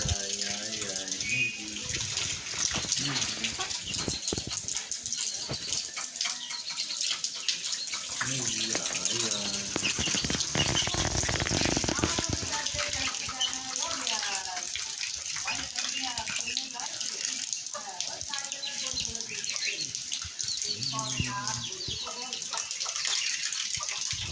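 Rain falling on a home courtyard submerged in floodwater, a steady, unbroken rushing wash of water throughout, loud and near, with voices talking over it.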